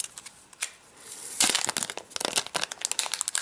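Plastic wrap crinkles and tears as it comes off a new aluminum Apple TV remote, close bursts of crackling that start soft and grow busier and louder, no talk.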